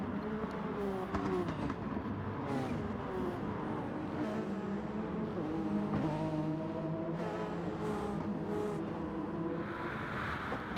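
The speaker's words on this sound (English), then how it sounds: "You can just hear the TSO 50s and their turbos." Turbocharged TSO 50 race cars in an endurance racing video game drone steadily, engines revving up and down as they run close together, a continuous mechanical roar with shifting pitch.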